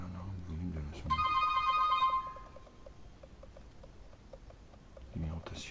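A HOMTOM HT7 PRO smartphone plays its ringtone as a short burst of bright, harmonic electronic notes while the ringer volume is adjusted. A soft pattering pulse runs under it, and someone speaks before and after the tone.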